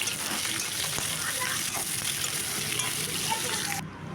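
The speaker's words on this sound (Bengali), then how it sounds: "সর্ষে ফোড়ন আর লঙ্কা ফোড়ন দিয়ে কিন্তু আমি উচ্ছে বড়িটা বসিয়ে দিচ্ছি" Bitter gourd and lentil dumplings hitting hot oil with a mustard seed and chilli tempering, a loud close sizzle and steady frying hiss that cuts off abruptly at the end.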